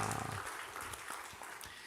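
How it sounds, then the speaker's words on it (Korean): A church congregation applauding in worship, a dense spread of clapping that fades gradually over a couple of seconds, heard from within the hall. "하나님께 영광의 박수 올려드리겠습니다"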